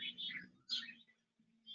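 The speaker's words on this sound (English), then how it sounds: "I hear the hummingbird." A recorded hummingbird call, a few high, thin chirping bursts separated by short gaps, faint and close over a low steady hum, with no talking.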